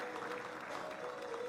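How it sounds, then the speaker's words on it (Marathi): Steady applause from the audience at a book launch event, continuous even clapping with no voices. "टाळ्या वाजत राहिल्या पाहिजेत."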